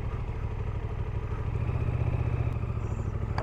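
Motorcycle ridden on a solo touring trip near coastal dunes in Scotland: a steady, close engine rumble with a throbbing low beat throughout, loud and continuous, with no talking.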